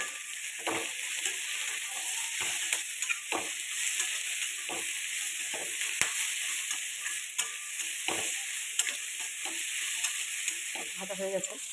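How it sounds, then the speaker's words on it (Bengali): Potatoes fry with salt and turmeric in a pan, a continuous close sizzle broken by frequent scraping and clacking of a stirring spoon, with no voices. "একটু ভাজা ভাজা হোক নুন হলুদ দিয়ে।"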